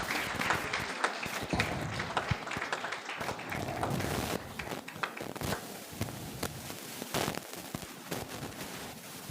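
Audience applause at a Bible college graduation ceremony in Islamabad as a teacher is called up, a busy, fairly distant wash of clapping with scattered sharper claps, lasting several seconds.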